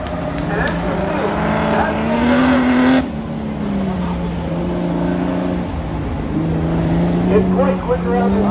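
A Jeep Cherokee rounds an autocross corner at the Carlisle Chrysler Nationals, its engine droning steadily with rising and falling pitch as it works through the turn, heard under a commentator's continuous talk.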